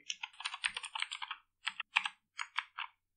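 Keys clatter on a computer keyboard while code is written in the Dart language, a quick burst of close, crisp typing followed by a few separated keystroke clusters, with no voices.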